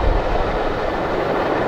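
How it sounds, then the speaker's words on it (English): CSX Q363 mixed manifest freight train cars roll past up close with a heavy, continuous low rumble like thunder, a constant loud roar with no voices. "Few cars are really rumbling. Sounds like thunder."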